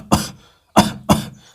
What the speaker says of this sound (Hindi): मैंने कफ किया,